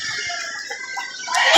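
Chickens cluck at a chicken market in Lipa City, Batangas, with short close clucks and a rooster's crow rising at the end of a brief moment.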